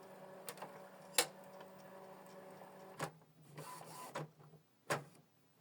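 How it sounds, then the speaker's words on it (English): The ink cartridge holder inside an Epson WorkForce printer moves into position during cartridge replacement, giving a faint motor whir broken by several sharp clicks and clacks that come at irregular intervals. "Ink cartridge holder move and position itself."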